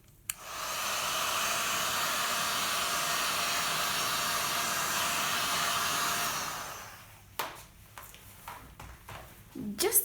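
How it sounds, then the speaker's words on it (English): A heat gun blows hot air over acrylic pour paint, a loud steady whoosh running for about six seconds before cutting off, followed by clicks and handling noises. "I'm going to use my heat gun"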